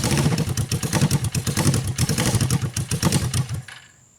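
A Suzuki engine running rough and struggling to idle, a loud uneven clattering chug close by that cuts out and dies at the end.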